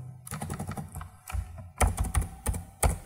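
Bursts of typing on a computer keyboard under Ubuntu, loud close clattering keystrokes in quick runs separated by short pauses, with heavy thumping strikes that sound like the Enter key.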